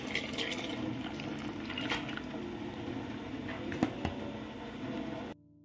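Soaked toor dal pours into a pot of boiling tomatoes with a soft, wet squishing and sloshing that runs steadily for several seconds, close and moderately quiet, with a brief louder plop near the end.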